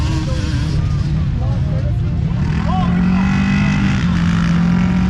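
Loud, continuous engine roar with rising and falling whines of race cars on a dirt track cut into a cornfield, heavy rumble throughout, voices talking beneath the din.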